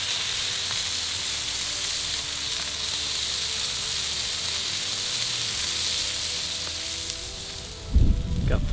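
Lamb lollipop chops sear in a hot pan with a continuous, even sizzle. Near the end a brief low thump sounds as the meat is handled, then the searing hiss carries on.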